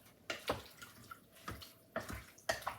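Water splashes and trickles as tomatoes are rinsed under a running tap, close and quiet, in a few uneven surges and drips without talk.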